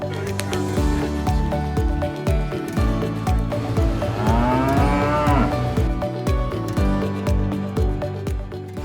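Cattle low loudly while restrained in a hydraulic hoof-trimming chute with built-in lifts. A long moo rises over a steady, rhythmic mechanical thumping and squishing that runs throughout.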